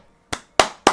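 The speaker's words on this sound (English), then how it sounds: "round of applause, I think" Three sharp, close hand claps ring out one after another with short gaps between them, and no one speaks.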